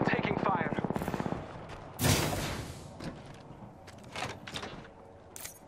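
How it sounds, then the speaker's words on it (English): Apex Legends gunfire, with a quick burst of rapid shots at the start followed by a sharp heavy blast and scattered fainter thuds, while voices speak in the background. "I am taking fire."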